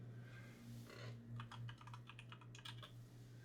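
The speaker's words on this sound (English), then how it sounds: "you start typing it in" Quiet typing on a computer keyboard, a run of quick uneven key clicks over a steady low hum, with no voices.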